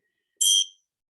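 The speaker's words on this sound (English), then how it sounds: "we're going to begin with the bell, of course." A single bright bell strike opens a restorative yoga session, a clear high chime that rings briefly and fades quickly into silence, heard alone.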